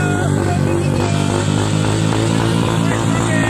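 Several mini motorbike engines buzz loudly and continuously at the start line of a race, a dense, close, rasping drone that fills the clip.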